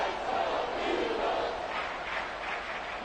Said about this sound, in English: This crowd turning up the decibel level.